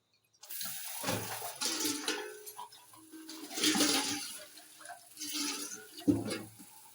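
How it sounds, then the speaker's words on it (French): Tap water gushes from a faucet into two glasses, a splashing flow that starts after a brief silence and swells and fades in bursts. "je veux ouvrir l'eau pour que ça puisse couler dans ce deux verres."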